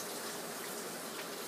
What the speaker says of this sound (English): I'm just going to put some water in this so I can get the rest of what's stuck in there out.